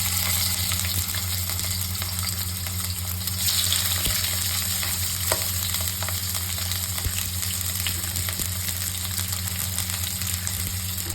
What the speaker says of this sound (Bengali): তেলের মধ্যে আমরা দিয়ে দেবো ডাইরেক্ট মাটনগুলোকে।